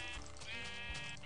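A wavering bleat from a white sheep in Minecraft fills nearly the whole stretch, moderately loud and close, with no voices present.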